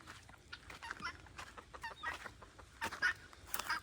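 Chickens cluck and scratch about on an areca farm with coconut trees and green manure, soft scattered calls fairly distant and faint amid light outdoor background noise.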